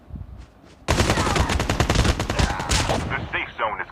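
Dense, rapid gunfire erupts in a battle royale video game, loud bursts of automatic shots following a couple of faint earlier sounds.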